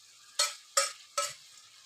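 Broad bean and potato curry frying in oil, with three distinct stirring scrapes at an even pace over a faint sizzle, close and fairly quiet.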